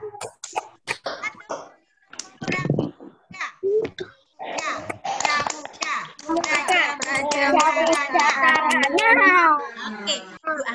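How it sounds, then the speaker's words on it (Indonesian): Schoolchildren in a first-grade Scout lesson clap in short double beats between bursts of chanting; young voices talk and call out loudly over the sharp, close hand claps. "Tepuk ganda."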